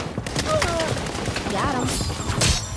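Rapid bursts of gunfire in the Saints Row video game, dense and continuous, mixed with excited voices talking over the shooting.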